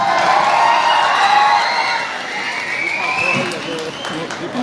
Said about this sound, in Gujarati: જોરદાર તાળીઓથી બ્રિજરાજભાઈને વધાવીએ.